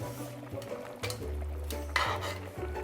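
A utensil stirs Singapore-style chilli crab in its gravy in a pan, giving a few quick scraping, clinking strokes against the metal over a soft, steady sizzle, fairly quiet and close.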